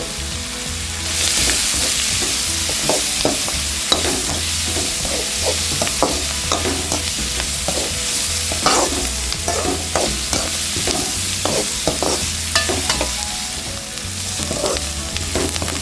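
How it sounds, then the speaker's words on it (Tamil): Onions, green chillies and ginger sauté in a pan for a Kerala chickpea curry, producing a loud continuous sizzle broken by frequent stirring clicks and scrapes, close and with no voices. "வெங்காயம் மிளகாயெல்லாம் வதங்கிடுச்சு."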